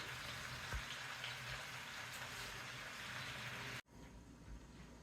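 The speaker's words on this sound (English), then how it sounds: "let's wait for the mushrooms to cook" Mushrooms frying in a pan for a healthy pasta dish give a steady, close sizzle with crackling pops throughout, briefly cutting out near the end before resuming.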